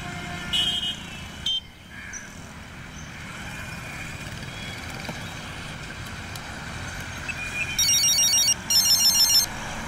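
A telephone rings with short electronic trilling bursts near the end of a quiet indoor scene in a dubbed Indian action film, the rings fairly clear over a dim background hum.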